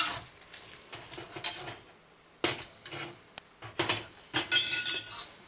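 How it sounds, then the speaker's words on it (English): A spoon stirs chili powder into a tamale mixture in a bowl, making repeated clinking and scraping knocks in irregular bursts with short pauses, close and fairly crisp. "And give it a stir."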